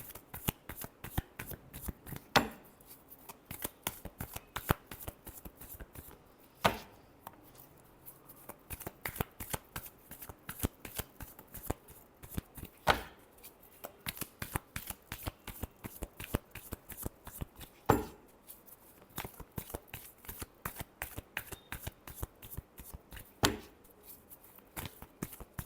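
A deck of tarot cards is shuffled again and again, crisp rapid riffles and flicks repeating in bursts with sharper taps between them, close and fairly quiet with no voices.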